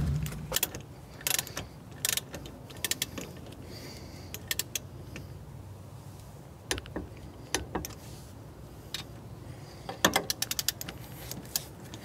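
A torque wrench clicks and ratchets in short irregular bursts while brake kit bolts are tightened to 40 foot-pounds, close and crisp over a quiet background.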